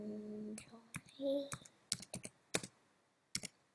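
Bursts of computer keyboard typing, a few sharp key clicks spaced irregularly with brief pauses, close and fairly quiet, with a short tonal hum early on.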